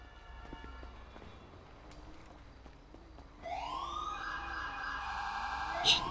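Police siren in the FiveM roleplay game, Romanian server: a wailing siren swells in loudly midway and keeps sweeping up and down over quiet background hum, with no talk.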